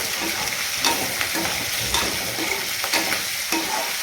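Fried ingredients for prawn biryani sizzle steadily in a hot pan while a utensil stirs and scrapes through them in repeated strokes, close and continuous.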